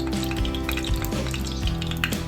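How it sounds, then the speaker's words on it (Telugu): Cumin and mustard seeds sizzle in hot oil in a kadai on a stove, making a dense, continuous, close frying hiss with faint popping crackles. Nothing else is heard. "తర్వాత స్టవ్ మీద కడాయి పెట్టి 2 టేబుల్ స్పూన్స్ ఆయిల్ వేసి కొంచెం హీట్ అయ్యాక జీలకర్ర ఆవాలు వేసి"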